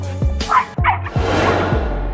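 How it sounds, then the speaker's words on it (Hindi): A dog barks several times in quick succession, loud and close, with short yelping tones between the barks. "बेचारा कुत्ता भौंकने के अलावा कुछ भी नहीं कर सका।"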